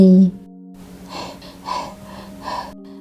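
A woman out of breath after running to a busy lunch spot gives several heavy, ragged gasping breaths up close, with pauses between them.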